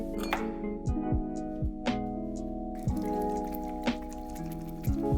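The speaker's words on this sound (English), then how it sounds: "Put the ice ball into the glass." An ice ball dropped into a glass for a soju mix gives bright clinks and ringing knocks, several taps in irregular rhythm, close and clear with no talk.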